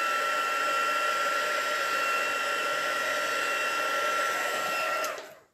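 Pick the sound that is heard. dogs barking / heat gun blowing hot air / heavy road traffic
heat gun blowing hot air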